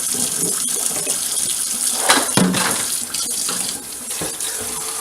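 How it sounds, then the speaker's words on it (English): Hot water runs from a kitchen tap in a continuous, close splashing stream, loud and steady with small shifts in tone as it hits the sink. "I'm just letting my tap get hot here"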